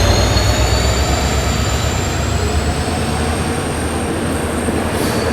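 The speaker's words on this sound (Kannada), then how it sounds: "ಫೈನಲಿ ಅರೈವತ್ತು ನೋಡ್ರಿ ನಮ್ಮ ಟ್ರೈನ್" Mysuru-Delhi Swarna Jayanti superfast train hauled by a WDP-4D diesel locomotive rolling in, a loud steady rumble and rail roar with a thin high whine running throughout, close by and alone.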